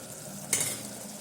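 Tomato curry with drumstick pods cooking in a pan with the lid just lifted, a soft steady simmering sizzle with a brief sharp burst midway.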